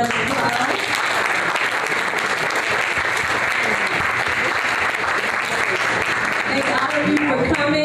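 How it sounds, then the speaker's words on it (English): Audience applauding a panel at the close of a discussion, a loud, sustained, even round of clapping lasting several seconds with some crowd noise mixed in. "So let's give the panel a round of applause."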